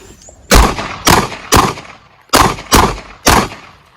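Pistol rounds fired during a self-defence shooting demonstration: six loud, sharp reports in two quick groups of three, each shot booming close and decaying briefly, with no talk over them.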